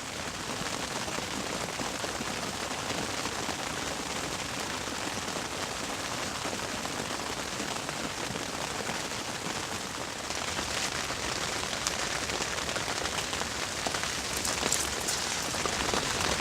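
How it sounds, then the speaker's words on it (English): Rain falls steadily outdoors on a freezing cold day at a carp fishing spot, a dense, even patter of drops on surfaces that continues unbroken throughout. "We've had hail and a bit of snow and all sorts this morning, but mainly just rain."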